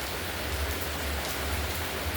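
Steady rain pours down in a dense, even hiss over someone lighting a fire outdoors, close and constant, with a low rumbling undertone and no voices.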